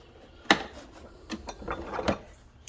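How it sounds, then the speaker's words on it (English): A Blue Point 14-piece heavy-duty end-cap oil filter wrench set is handled, with metal cap pieces clicking and clattering in their case, one sharp clack, then lighter knocks, close by in a garage. "It is the Blue Point. It is a 14-piece heavy-duty end cap filler wrench set."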